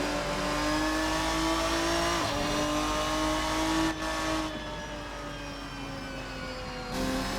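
A Ferruccio 57 GT race car engine in a racing sim drones steadily at high revs, a close continuous whine with slight pitch shifts as the car dives into a corner, with no talk over it.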